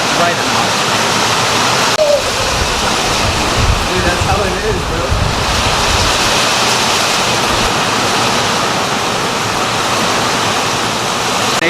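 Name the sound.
heavy rain pouring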